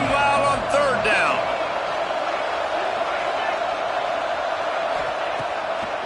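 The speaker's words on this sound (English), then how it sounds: "this crowd bearing down and getting loud on third down" Football stadium crowd on third down, a steady loud roar of massed voices with a few brief whoops near the start, continuing evenly throughout.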